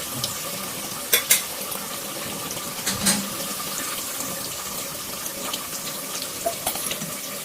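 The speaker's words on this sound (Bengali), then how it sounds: "কি করবো, এবার এটা ভাজা হবে ভালো করে।" Something fries in hot oil for parda biryani, giving a continuous loud sizzle with a few sharp utensil clinks near the start and no talking.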